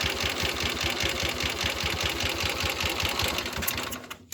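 A 1970 Triumph Bonneville T120R motorcycle engine, still cold after starting and with slightly loose tappets, runs close by with a loud, steady, rapid pulsing beat before it drops away near the end.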